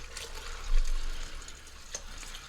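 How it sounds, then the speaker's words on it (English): Water poured from a cup into a crock pot already holding beef stock for pinto beans, a soft splashing fill that swells briefly near the start and then settles into a quieter, steady trickle, with no talking. "I topped off the beef stock with 2 cups of water"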